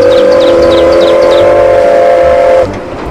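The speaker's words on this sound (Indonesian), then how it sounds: "Wih, kereta Thomas." Thomas toy train sounds a loud, steady whistle tone lasting about two and a half seconds, with chuffing clicks over the start, then cutting off abruptly into quieter background noise.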